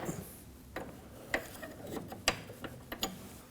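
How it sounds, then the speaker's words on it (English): A 19mm wrench works loose the jam nut on the front outer tie rod of a 1993-2001 Subaru Impreza, giving a few faint metallic clicks and ratchet-like ticks spaced unevenly, close by and without speech. "We can go ahead and break our jam nut free with a 19mm."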